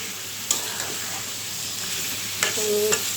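Goat meat frying and being stirred in a pan for a bhuna, a steady sizzle broken by a few sharp spatula scrapes and knocks, no talk.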